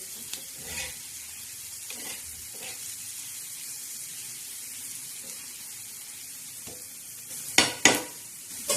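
Finely chopped onion softens in a pan for a spicy onion chutney, with a quiet steady sizzle broken by several scraping stirs and a louder clatter of the spoon near the end.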